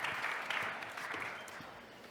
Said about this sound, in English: A round of applause for the jury.